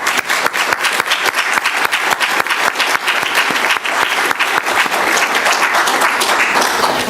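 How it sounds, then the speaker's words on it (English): An audience at a health service annual review gives sustained applause, a dense, loud, even wash of many hands clapping that carries on steadily without voices. "So I think we should give them all a round of applause."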